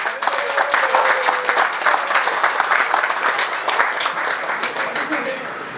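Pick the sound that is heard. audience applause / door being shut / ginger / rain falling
audience applause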